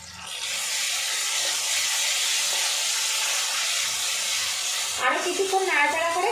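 A large grated tomato sautés in a pan, producing a steady, close hissing sizzle that fades in at the start, with a voice briefly speaking near the end.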